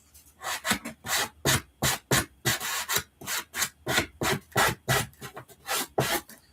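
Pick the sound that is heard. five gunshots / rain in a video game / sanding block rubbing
sanding block rubbing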